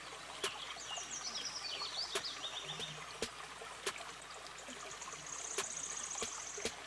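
A waterfall on a steep jungle climb pours in a steady broadband rush, with bird calls chirping over it and a few sharp knocks close by.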